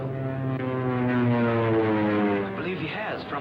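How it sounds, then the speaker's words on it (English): A propeller-driven scout plane circling overhead gives a steady, droning engine hum that holds throughout, with a voice starting to speak over it near the end. "There's a scout plane."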